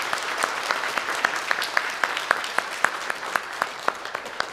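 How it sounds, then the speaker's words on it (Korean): A church congregation at a Sunday worship service claps to welcome first-time visitors: a steady, rhythmic round of many hands, moderately loud and even throughout, with no voices over it. "박수로 환영하겠습니다"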